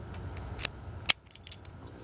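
A Burg Wachter No. 217F/50 padlock being unlocked and handled with its keys, giving a few sharp close metallic clicks and jingles over a steady low rumble.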